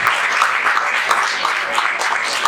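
Audience applause at a Spanish-language prophecy sermon, a dense, steady wash of many hands clapping at close range, even and sustained throughout with no voices standing out.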